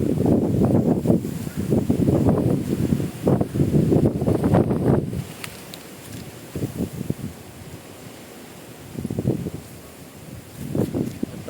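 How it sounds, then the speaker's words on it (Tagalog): Strong wind gusting across an open mountainside high above the sea roars loudly in bursts, with long low rushing gusts that ease into quieter stretches before picking up again. "Ito banda malakas ang hangin, masarap yung hangin"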